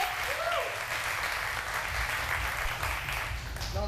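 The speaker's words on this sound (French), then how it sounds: "Ça s'applaudit." Steady applause from a studio audience on a French-language TV entertainment show after a music group finishes presenting their seventh album, continuous and fairly full, with faint voices mixed in.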